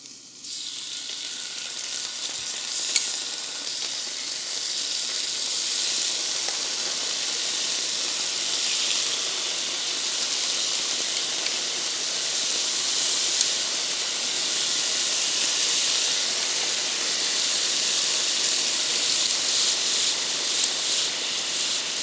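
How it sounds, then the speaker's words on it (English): Beef dropping into a hot oiled pan for beef and broccoli, a loud, steady hissing sizzle that builds and holds close up, with no voices. "Add a little more oil for it. And start adding our beef."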